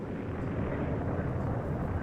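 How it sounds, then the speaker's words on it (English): A planet explodes in Super Metroid, producing a dense, continuous low rumble that roars steadily and loudly throughout the moment, with no voices over it. "There's the old planet explosion."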